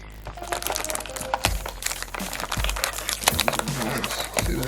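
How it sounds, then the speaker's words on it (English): The seal of a Yu-Gi-Oh Maximum Gold card display box is ripped open up close, giving continuous loud crinkling and tearing of plastic wrap with sharp crackles and snaps. "Rip the seal open."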